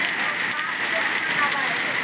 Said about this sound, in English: So you can see it is pouring.